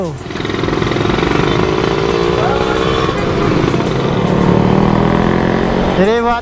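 Two-stroke Suzuki Satria Lumba R-120 motorcycle engine running steadily and loudly up close, with a buzzy, raspy tone that shifts pitch slightly as it revs, ending in a quick rising rev near the end.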